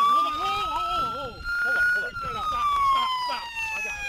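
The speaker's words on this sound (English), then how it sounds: "Turn that siren off." A police car siren wails loudly and steadily in a rising and falling pattern during a roadside stop after a pursuit, with people talking over it throughout.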